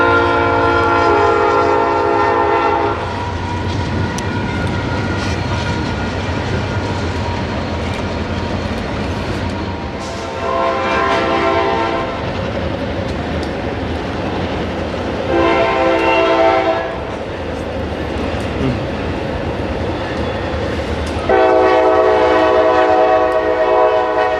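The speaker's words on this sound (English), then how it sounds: "we then get this crazy 3-way train meet happening right behind us" CN freight trains, including intermodals, pass one another in a three-way meet at a busy junction: a continuous loud rumble of rolling cars with repeated long horn blasts sounding in separate bursts, close by and without speech.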